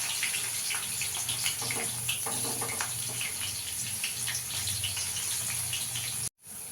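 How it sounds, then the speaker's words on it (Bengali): Dried peas fry in hot oil inside a strainer, making a dense, steady sizzle dotted with sharp crackles and pops, close and fairly quiet, with a brief dropout near the end. "আমি এই ছাঁকনিটার মধ্যে একটু সাবধানে ভাজতে হবে, ভীষণ ফাটে কিন্তু মটরগুলো।"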